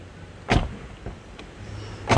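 Car door with a repaired latch swung open and shut, giving two soft thuds about a second and a half apart with faint clicks between them against quiet background noise.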